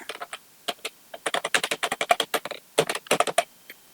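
Rapid keystrokes clatter on a computer keyboard in irregular bursts, close and crisp, with brief pauses between runs of typing.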